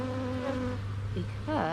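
Honey bees at an open hive drone in a steady, close buzz whose pitch wavers and swoops as individual bees fly near, continuous throughout with no talking.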